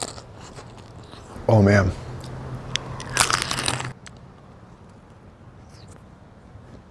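A crunchy fried tostada topped with clam ceviche and jalapeño is bitten into once at close range, a brief crisp crunch following a man's exclamation, with talking just before.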